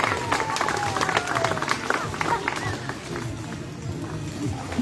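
An outdoor audience claps for a sea lion show at a wildlife park, a scattered patter under a presenter's amplified voice with occasional crowd murmur, fairly distant and moderate in level.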